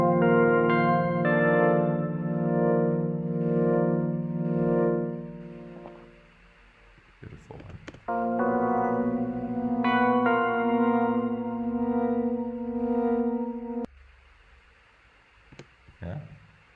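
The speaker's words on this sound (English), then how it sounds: "So this is lead synth." A lead synth line from an electronic track, with a phrase duplicated so it plays twice: sustained, rich harmonic notes with effects and reverb, broken by a short gap with clicks near the middle before the line resumes.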